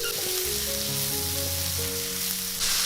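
Seafood mushrooms stir-fried in hot oil with shrimp heads, ginger slices and scallion, sizzling steadily and loudly up close as they are tossed, with a short burst of louder hiss near the end and music underneath.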